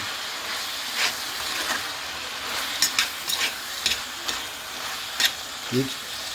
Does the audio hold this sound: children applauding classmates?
no